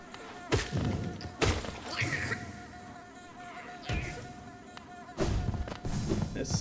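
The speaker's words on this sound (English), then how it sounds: "You think I would remember that there are bees inside of this thing" Bees in the Hollow Knight game, buzzing drones broken by several heavy thuds and hits, with bursts of combat noise in between.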